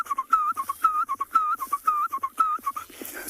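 A human voice whistles an imitation of a black-collared barbet's call on a South African morning safari. It gives a rapid, repeated, bouncy two-note phrase, close and fairly quiet, with no other sound.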